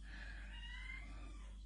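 A house cat meows once, a soft drawn-out call over a steady low hum, faint and somewhat distant, ending in a brief sharp knock.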